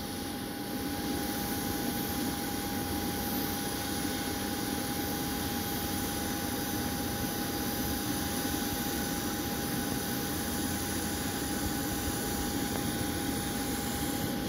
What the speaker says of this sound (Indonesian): pesawat ini adalah pesawat Scoot Tiger Air, pesawat dari maskapai negara Singapura dengan jenis pesawat Airbus A320, akan take off dari Manado ke Singapura